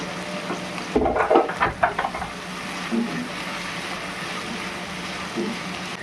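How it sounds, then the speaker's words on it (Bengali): Onion, green chilli and cashews fry in a pan of oil for chicken kofta curry, a steady close sizzle with a few louder scraping stirs early on, then settling into an even hiss. "দেখো পেঁয়াজ, লঙ্কা, কাজু এগুলো ফ্রাই হয়ে গেছে"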